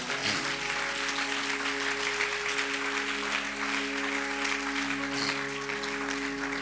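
Church congregation applauding and cheering for the Lord during a French-language sermon, a dense steady wash of clapping with sustained organ or keyboard tones underneath, continuous and fairly loud throughout.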